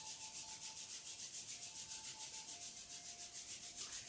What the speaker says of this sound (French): on frotte les mains l'une contre l'autre pour se chauffer les mains et pour faire venir l'énergie